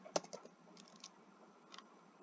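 Computer keyboard typing, a few faint, sparse key clicks in a quiet room with one sharper tap near the start.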